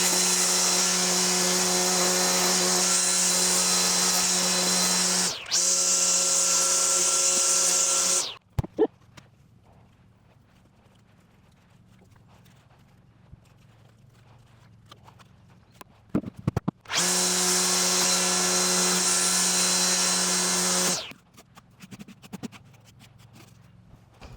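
Makita 40V XGT 1kW battery line trimmer (UR007G) running at its second speed, a loud steady whine that cuts out abruptly and returns later, with quiet outdoor gaps between runs and no talk.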